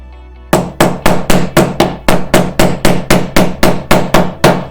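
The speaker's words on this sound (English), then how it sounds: "when you hammer, don't hit like this. Hit flat on the nail." A hammer strikes nails into wood in a steady run of about a dozen sharp, loud, evenly spaced blows, close up and alone, during a father-and-son workshop project building a trailer for a toy riding mower.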